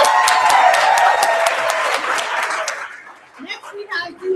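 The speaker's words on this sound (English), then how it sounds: "Applaud the poet." Audience applause with whoops and cheers for a poet after scores are read at a youth slam poetry bout, dense clapping that fades out after about three seconds as a voice begins speaking.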